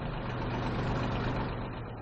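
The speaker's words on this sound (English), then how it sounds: "the engine run ahead and astern for at least 3 minutes" Freefall lifeboat engine running ahead and astern during testing, a steady, loud, continuous low idling drone that holds level throughout with no voices.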